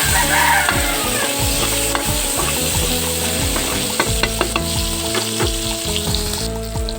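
Tomatoes frying in a pan for binagoongang baboy, a loud continuous sizzle with crackling pops and the scrape of stirring, close up and without talk.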